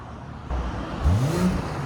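A BMW M340i 3.0L with a Dinan cat-back exhaust, valves closed, gives a short rev that climbs and falls back, heard fairly close and moderately loud over a low idle.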